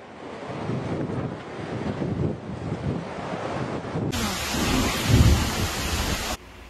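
Thunderstorm in Milan with heavy rain and gusting wind, a continuous loud roar of rain and buffeting wind with a deep thunder rumble building toward the end before it cuts off abruptly.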